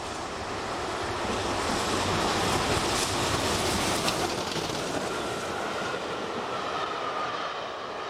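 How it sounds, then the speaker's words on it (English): Clan Line steam train approaching Chilham Station in the Stour Valley, a loud, steady broadband roar that swells and holds for several seconds with no voices. "The train turned left at Ashford along the Stour Valley and is now approaching its destination, Canterbury."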